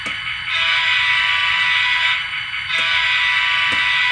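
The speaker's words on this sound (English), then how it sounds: "Wait, this horn sounds very familiar." An electronic train horn on an item from a railroad museum blares a steady, buzzy tone close up, with a short dip midway and brief breaks near the end.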